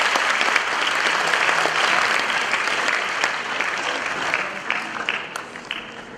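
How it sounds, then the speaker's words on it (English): Sustained applause fills the hall from a large audience at a conference opening ceremony, dense and steady at first, then thinning into scattered claps toward the end. "Can you give them a big round of applause?"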